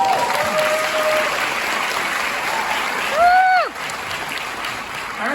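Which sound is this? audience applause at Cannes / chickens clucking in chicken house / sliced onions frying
audience applause at Cannes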